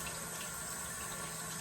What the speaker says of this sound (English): So now I'm gonna add my water.